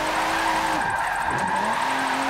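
A game car in Forza, an NFS Underground-style Sky Eddie drift build, slides sideways with engine note dipping as revs drop then climbing again, a continuous close roar with faint tire scrub.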